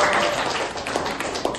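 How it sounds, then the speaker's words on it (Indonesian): Brief, thin clapping in a classroom as schoolchildren applaud a student during a lesson on buying and selling, a soft patter lasting under two seconds. "ya, tepuk tangan untuk dia"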